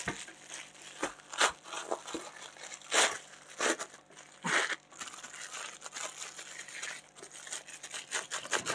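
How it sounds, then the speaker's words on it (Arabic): A plastic freezer bag of frozen peas and green beans crinkles and rustles close up in a series of short, uneven bursts as it is sealed after the air is sucked out through a straw. "تحط شاليمو جوه الكيس وتبتدي تشفط الهوا، وبعد كده تقفل الكيس"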